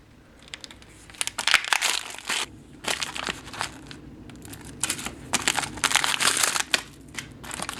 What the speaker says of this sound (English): Let's open up the beverage pack and take a look what's inside there.